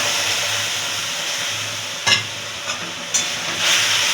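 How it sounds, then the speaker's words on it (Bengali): Milk goes into fried semolina in a hot pan over medium heat, a steady sizzle and hiss with a few brief stirring scrapes and splashes. "ভাজা হয়ে গেছে সুজিটা, এবার আমি এর মধ্যে দুধটা ঢেলে দেবো।"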